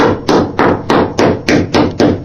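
A pointed screwdriver jabbing repeatedly at a solid metal panel on an Austin A35 during rust repair, giving seven sharp, loud taps in a steady rhythm, close up and alone.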